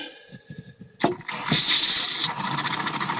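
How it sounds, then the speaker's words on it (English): A Newmar Dutch Star motorhome's water pump hums faintly, then a tap opens with a sudden rush and water pours steadily into the sink, loud and close, pushing pink antifreeze through the lines. "I can hear my pump running"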